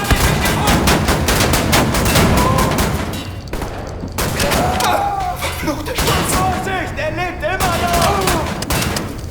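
Rapid shotgun blasts from a first-person shooter game, loud repeated bangs with sharp impacts and ricochets, firing in quick bursts with a brief lull in the middle.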